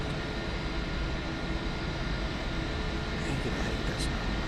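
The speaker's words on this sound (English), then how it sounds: "Airplanes taxiing around out here." Airliners taxi at Hartsfield airport, heard from inside a parked Airbus A321 cabin as a steady, loud broadband engine rumble and hiss with no clear rise or fall.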